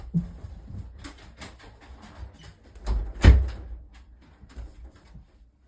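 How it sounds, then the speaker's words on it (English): Someone shuts an indoor door at home, making a single dull thud amid faint rustling and shuffling footsteps. The thud is moderately loud and there is no speech. "I'm gonna have to go shut the door."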